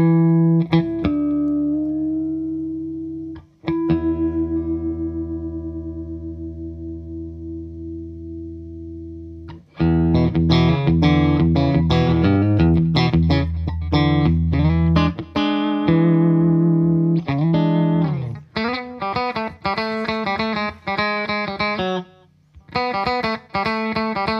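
Electric guitar played through an amp and effects rig with a volume pedal, first sustained clean notes ringing out, then a burst of busy, bright, heavily processed playing with choppy rhythmic strums and short pauses, loud and alone.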